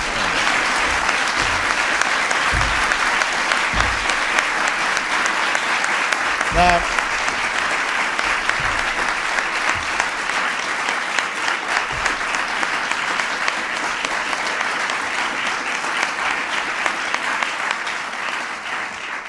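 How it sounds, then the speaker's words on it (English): Sustained, loud audience applause for FCC nominee Tom Wheeler at a presidential nomination announcement, a dense, unbroken wash of clapping lasting the whole stretch. "Give Tom a big round of applause."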